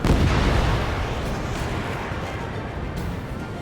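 A missile launches and explodes in the video game Ace Combat 7, a loud, heavy blast that rumbles and slowly fades into a lingering roar with no voices.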